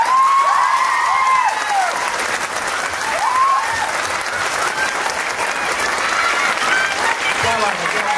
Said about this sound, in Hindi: लोग पूरे धुआंधार तरीके से दोनों हाथ ऊपर